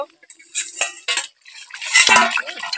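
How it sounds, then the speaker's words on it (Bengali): A lid set onto a pot of Bengali onion chicken curry and lifted off again, giving a few close metallic clinks and scrapes followed by a louder rattling clatter, with no talk. "এবার আমি ঢাকা দিয়ে দেব। খুলে দেখবো"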